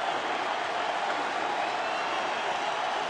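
Crowd of 30,000 plus at a Twins at Tigers night baseball game in Detroit roars in a loud, steady, dense wall of cheering and applause.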